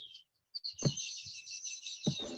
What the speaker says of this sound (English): there are a lot of birds here